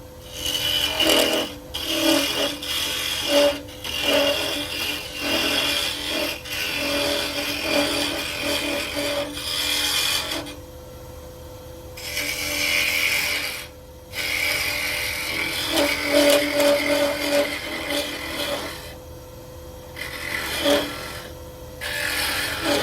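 A wood lathe turns a scrap-wood toothpick holder while a tool scrapes and rubs the spinning piece in a loud, steady, gritty hum, broken by brief drops into near-quiet.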